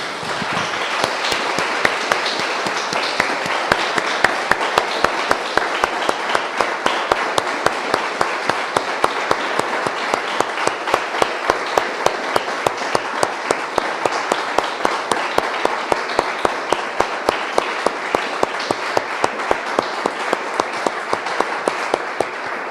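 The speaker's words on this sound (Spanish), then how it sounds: "Le damos un aplauso, hermanos" A church congregation applauds steadily for over twenty seconds, dense rapid clapping from many hands filling the room at an even, sustained level without a break.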